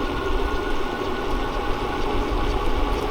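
Electric hub motor of a 5th Wheel Torrent1 hardtail mountain e-bike running on throttle at about 20 mph, a steady whining hum over wind rush with no voices.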